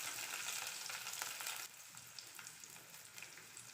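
Ginger, green chili and garlic frying in oil for a Kerala fish curry give a bright, steady, hissing sizzle that drops to a quieter crackle partway through, close and without talk.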